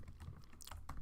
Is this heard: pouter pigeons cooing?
no